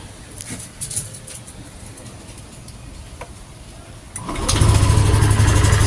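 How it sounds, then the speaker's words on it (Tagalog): A motorcycle engine cranks and catches around the four-second mark, settling into a steady, loud idle after a stretch of quiet outdoor background. "Start na natin yung motor."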